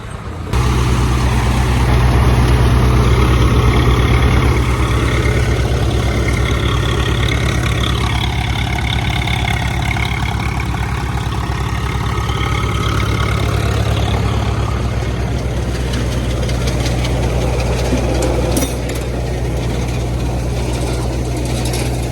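A tractor engine idles loudly nearby with a steady, deep chugging rumble that barely changes over the whole stretch.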